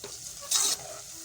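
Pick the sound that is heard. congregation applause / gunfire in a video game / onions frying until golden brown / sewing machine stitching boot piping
onions frying until golden brown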